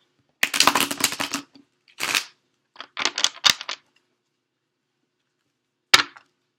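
A deck of tarot cards being shuffled up close, several crisp papery bursts of riffling and slapping with short pauses between, and no voices.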